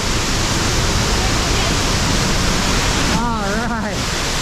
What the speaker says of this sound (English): Oh man, here comes that water.